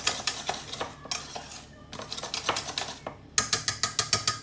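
A utensil clinks and scrapes against a bowl in quick, rhythmic strokes as softened gelatin is stirred into a tart filling mixture, with a short pause midway and sharper, faster clicks near the end; no voices.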